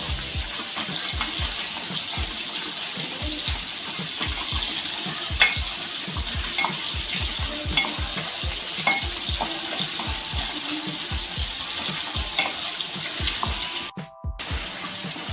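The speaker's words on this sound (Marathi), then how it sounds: "हे मसाले आपण एक दोन मिनटं परतून घेऊया हे बघा छान तेल सुटलेलं आहे" Spices for a Maharashtrian rawas fish curry sauté in hot oil, giving a continuous near sizzle and crackle, with scattered stirring clicks and scrapes of a spoon against the pan, and no talking.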